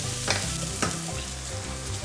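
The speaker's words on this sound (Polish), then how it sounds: "Nasza cebulka się smaży" Onion frying in oil in a pan, a dense close-up sizzle with a couple of sharp stirring scrapes, loud and steady with no voices.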